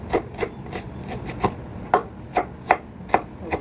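A knife chops a white onion on a cutting board in a steady series of about ten crisp, close taps, roughly two or three per second.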